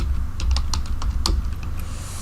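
Fingers tap out a short, quick run of clicks on a computer keyboard, close and clear over a low steady hum, with no talking.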